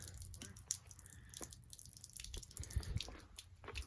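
Steady trickling and dripping of water draining from an RV fresh water tank, with scattered drips and a low gurgling flow, fairly quiet and close.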